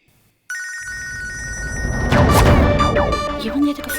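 A telephone bell rings loudly and clearly after a brief silence, its repeated metallic trill joined by a sharp crash-like hit and overlapping dramatic sounds.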